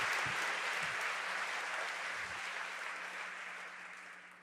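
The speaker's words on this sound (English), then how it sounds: "Would everyone please join in giving them a round of applause?" An audience at a university fashion show breaks into sustained applause, thick clapping filling the room and slowly tapering off.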